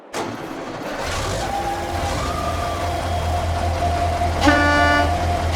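A tractor engine in Farming Simulator 22 cranks and catches, then settles into a steady low idle, with a brief horn-like tone sounding near the end.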